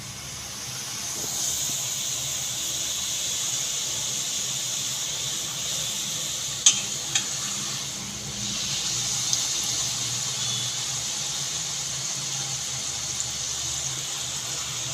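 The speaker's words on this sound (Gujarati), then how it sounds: "હવે આપણે તેલ અગાઉથી જ મૂકી દીધું છે તળી નાખશું બધી પૂરી" Steady, crackling sizzle of farsi puris deep frying in hot oil, a constant hiss with a couple of sharp pops partway through.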